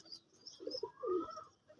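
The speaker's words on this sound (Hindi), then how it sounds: "आज मैं आपको कुछ कबूतर दिखाता हूँ" Pigeons coo softly near a loft holding young chicks, with a couple of low, rounded coos and faint chirps against a quiet background.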